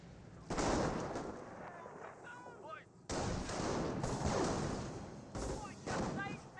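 Gunfire aimed at pioneers in the World War II strategy game Company of Heroes, with bursts of rapid shots and impacts in several waves amid battle noise and a voice talking over it.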